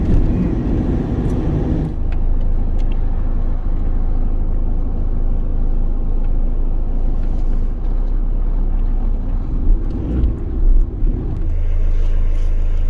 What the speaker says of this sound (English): Typical M6 traffic on a Sunday evening.